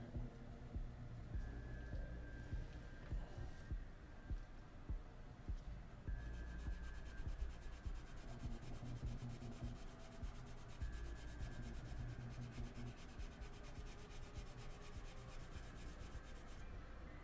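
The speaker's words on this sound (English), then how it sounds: "Let's try some wet sanding here." A plastic model kit part for a Ma.K SF3D Krachenvogel is wet-sanded by hand with continuous, quiet, gritty rubbing strokes over a low background hum.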